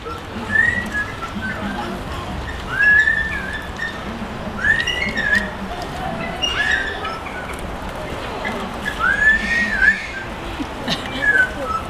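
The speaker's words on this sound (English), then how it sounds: "So Popeye, let's hear that tune." A bird at a wildlife show whistles the Andy Griffith Show theme, short rising and falling phrases repeating every few seconds over a steady background hiss.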